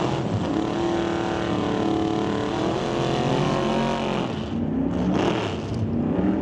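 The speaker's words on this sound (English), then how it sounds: "Wheels up on the Camaro." A Camaro drag car launches wheels-up at an NHRA Summit ET bracket race, its engine roaring loud and close with a steady harmonic drone that shifts pitch near the end as it pulls away.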